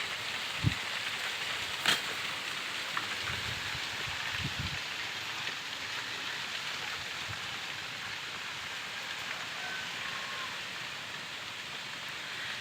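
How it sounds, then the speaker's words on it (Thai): Steady rain falls at a fishing pond on an overcast day, an even hiss throughout with a couple of faint nearby knocks and no talking. "โอ้ฝนมืดมาอีกแล้วครับ"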